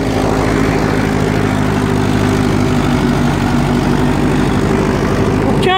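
A spring-ploughing Ursus C 360 tractor's engine drones loudly and steadily at close range, a constant low rumble with strong pulsing harmonics and no letup.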